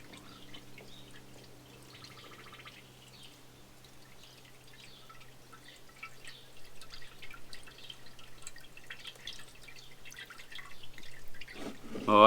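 Concentrated coolant being poured into the tank of a 1954 Cat No.6 shovel's pony motor, a soft steady trickle and drip of liquid that grows louder toward the end, no talking.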